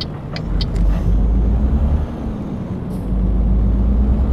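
A truck in Euro Truck Simulator on a Berlin map rolls along with a steady low engine rumble and road drone, loud and close, with a brief hiss near the start and a short dip midway.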